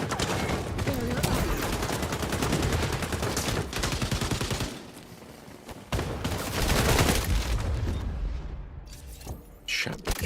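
Dense, sustained gunfire and explosive bursts from an XDefiant match, rapid automatic shots such as an MP5 submachine gun crackling almost continuously, easing briefly midway and then resuming loud and close.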